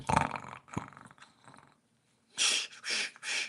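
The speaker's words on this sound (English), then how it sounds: "Fucking dog." A dog growls and snarls close by indoors, right under someone's feet, in several short rough bursts separated by a brief pause.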